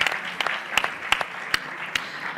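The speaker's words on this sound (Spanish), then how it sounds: "Un aplauso a Miguel." Sparse clapping from a panel audience at a symposium, a handful of distinct claps spaced irregularly over about two seconds, fairly faint in a quiet room.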